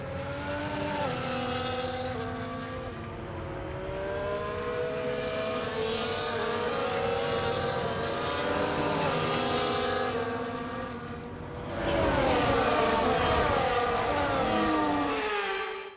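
F1 24 race cars idle and rev on the formation lap ahead of the Miami Grand Prix sprint, a loud continuous engine drone with rising and falling harmonics and a sudden louder car passing close near the end.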